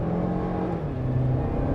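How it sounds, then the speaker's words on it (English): Soueast DX7 Prime with a 1.8 Mitsubishi MIVEC engine accelerating on the road, a steady low engine hum rising gently, heard from inside the car with no talking. "The car's got quite a bit of power, so I'm just going to accelerate away here"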